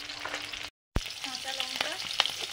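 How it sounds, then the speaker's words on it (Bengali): Panch phoron spices frying in mustard oil, a close steady sizzle and crackle interrupted by a short gap of silence, then continuing with small pops. "সরষের তেল দিলাম, পাঁচফোড়ন,"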